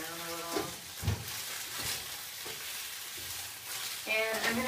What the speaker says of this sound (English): So this is cooking. And we'll just stir it around a little.